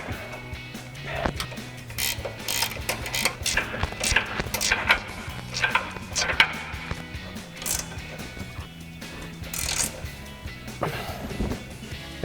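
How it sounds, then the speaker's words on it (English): A 17mm ratcheting wrench tightens the upper strut mounting nuts of a 2021-2025 Ford F-150 coil-over leveling kit, producing irregular close clicks and light metallic knocks at a moderate level, with no voices. "Now we'll tighten down our upper strut mounting nuts with our 17mm ratcheting wrench."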